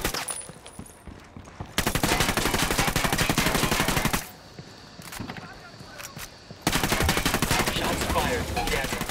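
Sustained automatic gunfire in the video game Ghost Recon Wildlands, loud dense bursts of rapid shots in two long stretches with a quieter gap between, voices talking underneath.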